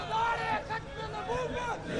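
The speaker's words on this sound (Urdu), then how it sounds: "لبیک کے نعرے آپ لگائیں۔" A crowd at a Labbaik rally shouts slogans in rising and falling bursts, a loose mass of voices close by with overlapping babble between the calls.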